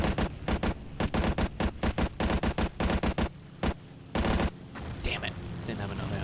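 Rapid bursts of gunfire in a first-person shooter game crack out loud and close, clustered in quick volleys with short gaps, then trail off into quieter battle ambience.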